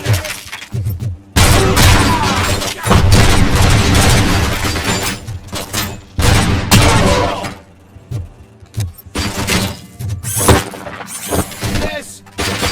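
A grenade blast and bursts of gunfire ring out in the video game RoboCop: Rogue City, loud shattering explosions and rapid shots in uneven bursts between brief quiet gaps, mixed with shouted voices.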